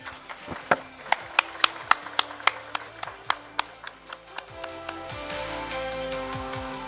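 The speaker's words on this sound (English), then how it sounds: "Let's clap, please." Audience at a business summit in Islamabad claps for the moderator: a run of sharp, evenly spaced claps rings out, building briefly and then thinning into a steadier hall murmur.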